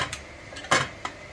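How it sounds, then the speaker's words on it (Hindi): A pressure cooker lid is pushed shut on a pot of potato and chickpea curry in a home kitchen, giving a few short metallic clanks, the loudest near the middle, with quiet gaps between. "कुकर को बंद कर देते हैं"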